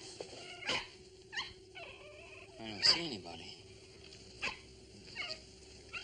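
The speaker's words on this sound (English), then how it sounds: "Chipper doesn't bark like that for nothing." A dog barks in short, spaced yips and bow-wows, several separate bursts at moderate distance over a low hum, while someone speaks briefly between the barks.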